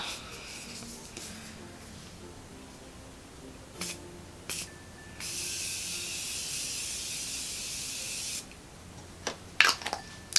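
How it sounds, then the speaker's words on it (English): Morphe Continuous Setting Mist sprays from a can in a steady hiss lasting a few seconds, close and moderately loud, followed by a few short clicks and rustles. "I'm gonna try out the Morphe Continuous Setting Mist."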